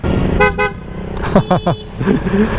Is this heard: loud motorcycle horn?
yes